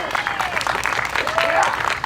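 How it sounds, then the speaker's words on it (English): Crowd applause at an outdoor campaign bus-tour stop in a Minneapolis-area commons, steady clapping and cheering throughout with a voice speaking over it. "give yourselves a round of applause for coming out to hear a candidate"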